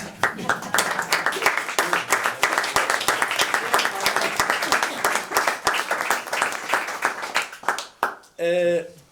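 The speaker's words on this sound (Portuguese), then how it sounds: "Eu acho que o Duarte merece uma salva de palmas" Audience applause for an artist at a talk or presentation, dense steady clapping from many hands for about eight seconds, then tapering off as a single voice begins speaking at the end.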